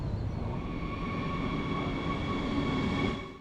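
An RE1 Rhine-Ruhr Express regional train pulling into a German station overnight, a loud steady rumble with faint tonal whine from the motors and wheels, holding constant before easing off at the end.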